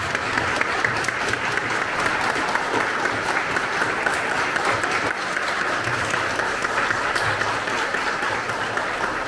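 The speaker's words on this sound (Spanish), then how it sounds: "Pues vamos a ver un caluroso aplauso a Cintia." A church congregation at a service in Buenavista, Guadalcázar, San Luis Potosí gives a warm, steady round of applause, continuous clapping filling the space for about nine seconds without letup.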